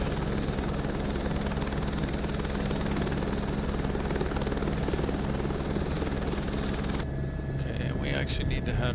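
Helicopter engine and rotor sound from Microsoft Flight Simulator 2024 during takeoff, a loud continuous turbine whine and rotor drone holding steady before cutting off abruptly near the end.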